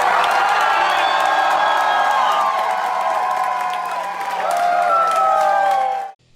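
A concert crowd cheers and whoops loudly and continuously at a reunion show, the roar holding steady for about six seconds before cutting off abruptly.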